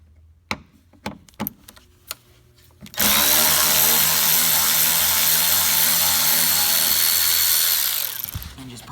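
A power driver with a T30 Torx bit backs out a screw from a carpet tie-down in a 2003-2005 Ford Excursion, a few faint taps and clicks first, then a loud, steady close motor whine for about five seconds before it stops.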